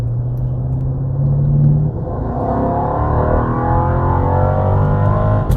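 A Mercedes E55 W211 engine held at full throttle gives a loud, steady roar with rising and falling harmonic tones, continuous for several seconds and close by, with no talking.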